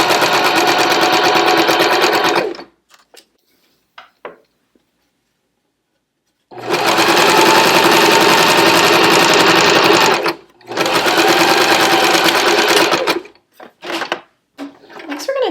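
A sewing machine stitching bias binding runs loud and close in three continuous bursts, about three seconds each, separated by pauses with brief small handling clicks.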